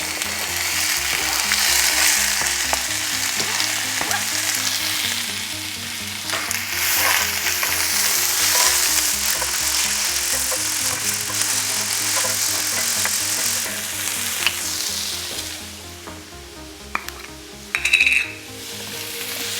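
Sliced onions and peppers fry in a hot pan for shakshuka, giving a steady, loud sizzle with occasional soft clinks and stirring sounds and no talk.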